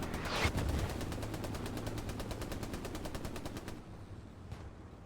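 Rapid sustained machine gun fire in the video game Hell Let Loose, a long fast burst of evenly spaced shots from a distance that stops abruptly near the end, followed by one more faint report.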